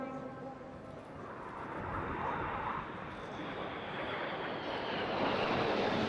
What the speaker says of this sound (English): They will be heading towards each other at 100 feet and over 800 miles per hour to do a series of inverted flying.